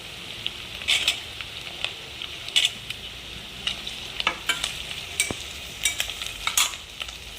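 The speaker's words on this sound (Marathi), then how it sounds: "असं मिक्स करून घ्यायचा. आता आपण बटाटा टाकून घ्यायचा त्याच्यात." Potatoes tipped into biryani masala in a pan and stirred, giving a steady frying sizzle with several bright scraping bursts of the spoon against the pan, close and moderately loud, no talking.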